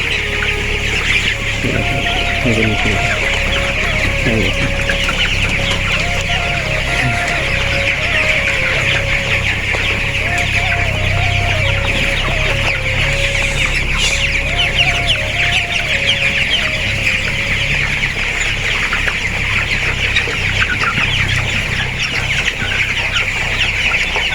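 Chickens cluck steadily inside a poultry shed with freshly changed litter, a dense continuous flock murmur with a few call phrases rising over constant loud background noise.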